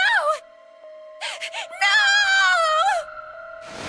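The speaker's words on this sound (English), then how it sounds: "Suddenly, June was screaming, her voice broken." A female character named June in the video game 999 lets out high, broken wailing screams in several bursts, loud and close, with short silences between them.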